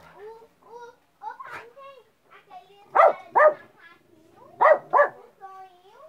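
Dogs bark at a monkey perched on a house wall, giving several loud, close barks in pairs between quieter whines, while a voice speaks in the background.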